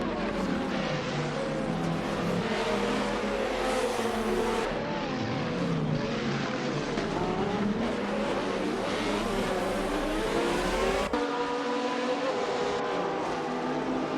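GTR race cars lapping Road Atlanta in a racing video game, several engines roaring continuously with rising and falling revs and gear shifts, loud and close, one car's pitch sweeping past the others, without speech.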